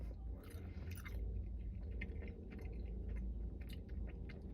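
Someone chews Trader Joe's salami close to the microphone, a quiet, continuous stretch of wet, squishy mouth sounds with no speech.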